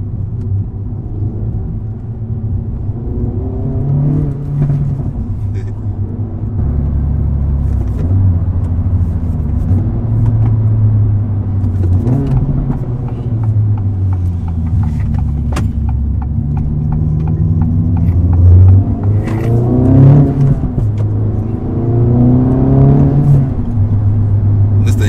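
An Acura Integra Type S engine revs while driving, with loud in-cab engine drone climbing and dropping through repeated gear pulls, each surge rising in pitch before falling back, and road rumble underneath.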